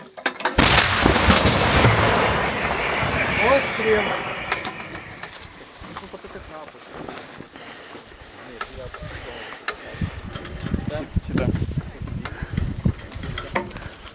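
An artillery gun fires nearby with one loud, sharp blast that trails off into a long rumbling decay, followed by quieter crackling and rustling sounds.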